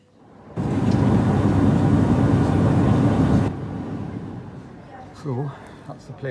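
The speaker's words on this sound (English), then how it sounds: "So that's the plane I'm just getting off." A jet airplane at an Edinburgh airport gate, heard as a loud steady engine roar for several seconds that cuts off and gives way to a quieter hum and a brief voice.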